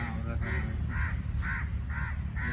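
A crow caws over and over in the evening in an even rhythm, about six calls, fairly close, above a low steady background hum.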